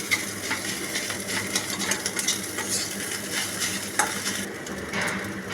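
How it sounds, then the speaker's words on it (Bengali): Fish roe frying with spices in a pan gives a steady, close, continuous sizzle with soft stirring scrapes throughout, and no voices. "ভালোভাবে মাছের ডিমগুলো ভেজে নিয়েছি মশলার সাথে"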